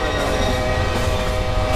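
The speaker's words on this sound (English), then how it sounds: "That's a train." A train rumbles past in a scary train video game, loud and steady with a sustained horn-like tone over the rolling rumble, no talk.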